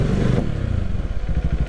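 A scooter roars past close by, a loud engine buzz with rattling clatter that swells and fades within a couple of seconds.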